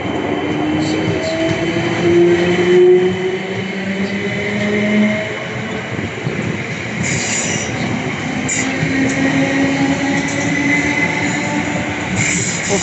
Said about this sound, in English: Western Road Class 455 868 and 455 901 get ready to depart Clapham Junction for Guildford from London Waterloo.